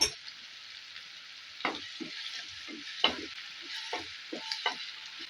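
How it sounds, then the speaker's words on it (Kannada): Salted onions fry in a pan for a masala dosa filling, with a soft sizzle under several distinct spatula scrapes and knocks at an uneven rhythm, heard close with no voices. "ಈರುಳ್ಳಿ ಹಾಕಿ ಚೆನ್ನಾಗಿ ಗೋಲ್ಡನ್ ಕಲರ್ ಬರೋವರೆಗೂ ಫ್ರೈ ಮಾಡ್ಕೋಬೇಕು."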